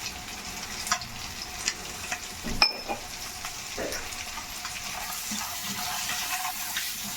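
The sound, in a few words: eggs frying in a pan with turmeric, chili and salt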